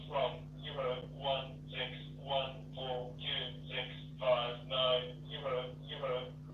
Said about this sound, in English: There's a phone call ringing.